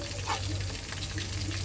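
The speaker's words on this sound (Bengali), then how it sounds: "তারপর আমি মরিচ কুচি দিয়ে দেব, কিছুক্ষণ ভেজে নেব।" Chopped garlic and green chilies frying in a pan, a soft continuous sizzle heard faintly and steadily throughout.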